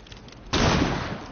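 A flashbang grenade detonates in a tactical shooter video game, a sudden loud broadband burst that stays sustained and slowly fades, following a quieter stretch.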